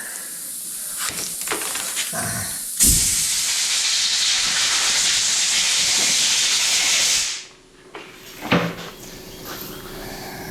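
Compressed air blasts steadily with a loud hiss for several seconds onto a tilt cylinder part from a John Deere 110, preceded and followed by short clicks and handling noises in a workshop.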